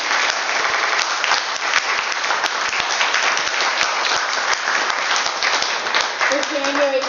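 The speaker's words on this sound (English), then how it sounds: "Everyone, please give them a round of applause for" Audience applause at an evening talk in a hall, sustained steady clapping from many hands filling the whole stretch, close and loud.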